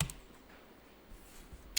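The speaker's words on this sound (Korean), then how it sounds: "엔터 쳐보시면" A single Enter key pressed on a computer keyboard during an accounting software lesson, a sharp click near the start and another near the end over a quiet background.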